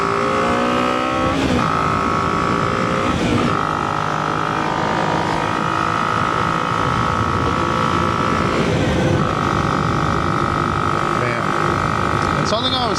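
A 250 motorcycle accelerates up to speed, its engine loud and close, with rising revs broken by two or three gear shifts over a constant wind rush.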